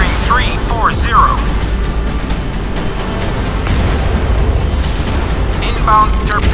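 A missile strikes its target in a submarine video game, a loud, deep rumbling blast that rolls on under synthetic beeping interface tones.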